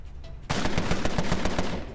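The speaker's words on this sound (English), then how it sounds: "let's drop some rounds here in our Tommy gun" Rapid bursts of Tommy gun fire in the video game Empire of Sin: a brief quiet lead-in, then a loud, sustained string of sharp automatic shots with a steady stuttering rhythm.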